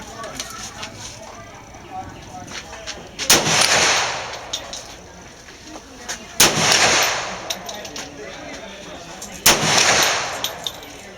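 Three loud shots from a Heckler and Koch .45 pistol at a shooting range, spaced about three seconds apart, each a sharp crack followed by a decaying echo over quiet background.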